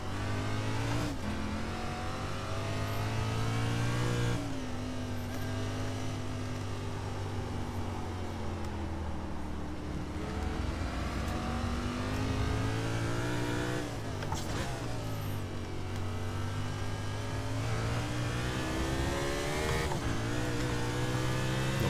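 Stock car engine at Monza, loud and close throughout, holding a steady drone with pitch climbing and dropping through gear changes and revs, no talk over it.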